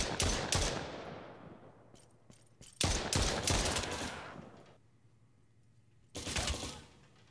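Gunfire in a tactical first-person shooter video game: a few sharp shots and short bursts spread out with quiet gaps, each ringing out and decaying, fairly close.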